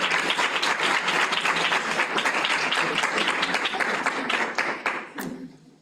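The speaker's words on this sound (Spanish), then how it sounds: "damos un aplauso por favor para nuestra conferencia" Enthusiastic audience applause for a gender-violence conference speaker, dense sustained clapping that fills the room and then fades out over the final second.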